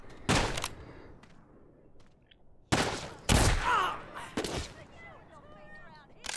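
Gunfire from a firearm in The Walking Dead: Saints and Sinners, a few loud separate shots spread over the clip with quieter gaps between them.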